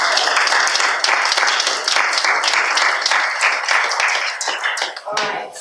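A small congregation claps together in a brisk, even rhythm, close and clear, and the clapping thins and fades out at the end.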